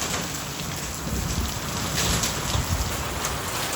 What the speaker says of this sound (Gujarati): આ બધા વાઈટ દેખાય ને બધા કરા પડ્યા